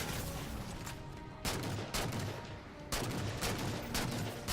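DMR rifle shots in Halo Spartan Ops, a few sharp, loud single reports spaced about a second or more apart, each with a rolling tail, amid steady game ambience.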